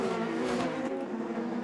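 A 2018 IndyCar race car at the Portland Grand Prix accelerates off a corner, its engine a continuous high-pitched drone held steady at moderate loudness with no talking.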